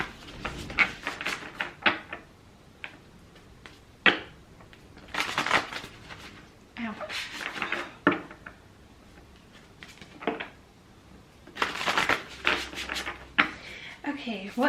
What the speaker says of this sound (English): Just going to quickly shuffle the cards.